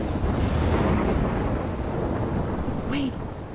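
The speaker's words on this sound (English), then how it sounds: "I'm trapped in a storm?" A thunderstorm in the video game Life is Strange rumbles with continuous thunder and heavy rain, a loud, dense wash of low noise throughout the short stretch, with no speech.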